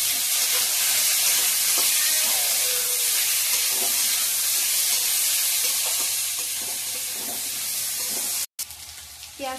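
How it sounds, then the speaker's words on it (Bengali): Chopped onions sizzle in hot oil in a pan for chicken curry, a steady close frying hiss with light stirring scrapes, briefly cut off near the end before resuming. "পেঁয়াজটা ভাজা হয়ে গেছে, এখন মাংসটা দিয়ে দেব।"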